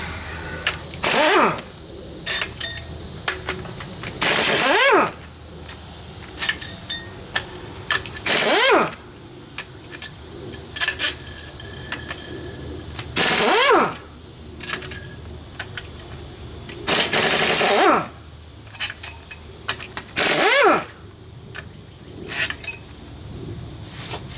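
A wrench works loose the big case nuts on a stock VW 1600 engine during teardown: seven loud, sharp mechanical bursts come every three to four seconds, with faint clicks and scrapes between them and no talking.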